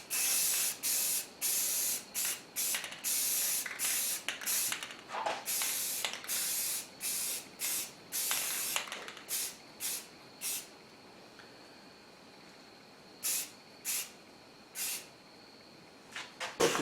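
Aerosol cans spray black paint and primer onto a 471 lb anvil being restored, a series of sharp hissing bursts of varying length separated by pauses, close and clear.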